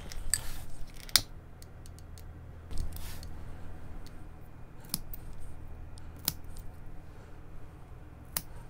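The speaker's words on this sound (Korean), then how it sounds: "일단 처음에는 가위로 좀 잘랄게요." Scissors snip through the stems of a begonia plant, a handful of crisp, close cuts spaced a second or so apart against a quiet indoor hum.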